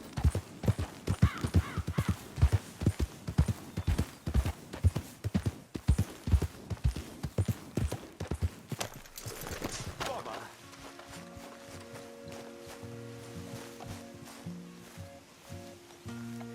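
Horse hooves galloping in Red Dead Redemption 2, a fast steady clip-clop rhythm close up that fades into music and ambient sound near the end.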